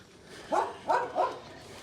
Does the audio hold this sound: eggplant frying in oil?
no